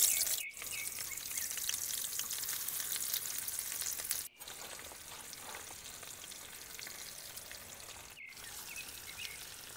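Onion, tomato, chili and salt sizzle in a pan at a forest campsite, a steady close hiss of frying with a couple of brief breaks, no voices.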